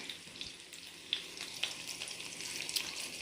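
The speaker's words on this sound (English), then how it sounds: "I'm gonna give that pan a little bit of a roll just to get that oil moving around a little bit" Sausage balls browning in oil in a pan, a soft steady sizzle and crackle with a few sharper pops, close and alone without talk.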